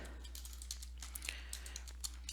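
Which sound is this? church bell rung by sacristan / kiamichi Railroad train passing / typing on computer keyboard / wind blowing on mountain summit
typing on computer keyboard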